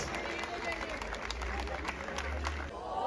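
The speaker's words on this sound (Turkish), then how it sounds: "Şampiyonlara büyük alkışlar" Crowd applause for champions at a Beykoz football trophy celebration, steady clapping and crowd noise throughout with a low rumble underneath, fairly loud and continuous.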